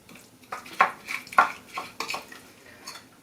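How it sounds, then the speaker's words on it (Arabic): Chermoula marinade for baked fish is mixed in a bowl, and a utensil clinks and scrapes in short, irregular bursts, close and fairly crisp. "وغادي نخلط هاد الشرموله"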